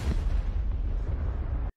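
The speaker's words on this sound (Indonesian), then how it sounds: "Tiba-tiba terjadi sebuah ledakan dari arah jembatan." A wartime explosion erupts at a bridge, a deep, sustained rumbling blast filling the low end for nearly two seconds before cutting off abruptly, with no voices over it.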